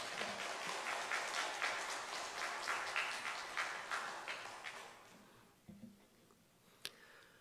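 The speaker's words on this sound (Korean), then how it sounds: "우리 목사님 나오실 때 우리 박수로 목사님 맞이하겠습니다" A church congregation at a Wednesday morning worship service applauds to welcome the pastor, sustained clapping from a large crowd that gradually thins out into a few scattered claps.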